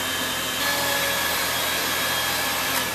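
An electric hand mixer whips super-cold Chantilly cream at high speed, a loud, steady, dense whirring drone that runs without pause, with no talking.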